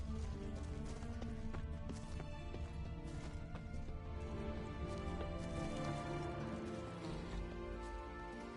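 A horse gallops with steady, continuous clip-clop hoofbeats in Witcher 3: Blood and Wine on PS5, layered under a dense, loud game soundscape.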